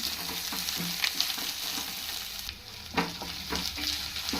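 Hyacinth beans frying with ginger garlic paste for a tomato curry, a steady close sizzle broken by periodic scraping and stirring clatters, no voices.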